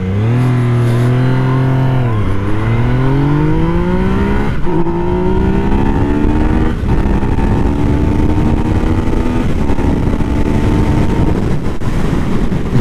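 A 2017 Yamaha FZ/MT-09 three-cylinder motorcycle accelerates hard through the gears, engine pitch climbing and dropping at each shift, loud and close with steady wind rush throughout.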